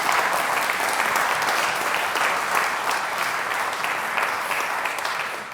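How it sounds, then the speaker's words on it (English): Sustained applause from an audience at a community awards ceremony, a dense steady clapping that holds loud for several seconds before easing slightly at the end. "So another round of applause for Esther Allen there."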